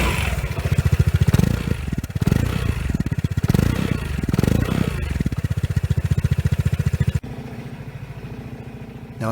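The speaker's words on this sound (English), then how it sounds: "I let the Vespa run for about 8 to 10 minutes" A Vespa GTS scooter engine idles steadily with a fast, even pulsing putter and some mechanical clatter, close and loud, then drops to a quieter, thinner running note toward the end.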